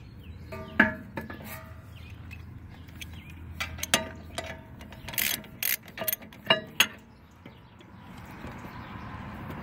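A ratchet backs out the caliper bracket bolt on the rear brakes of a 2013 Dodge Journey R/T, giving close, irregular bursts of clicking, with short ticking runs and metallic knocks between quiet pauses.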